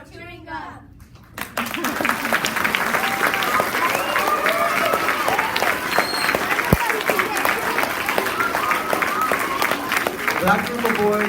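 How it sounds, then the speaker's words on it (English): An elementary school audience at an oral language festival breaks into loud, sustained applause after a brief spoken line, many hands clapping densely and evenly close by, with a few voices and cheers mixed in. "I want to give them a second round of applause as well."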